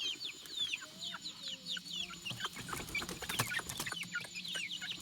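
Chickens on a rice farm cluck and call in a close, busy series of short notes, with a few sharper squawks and knocks around the middle and a faint rural background, no talking.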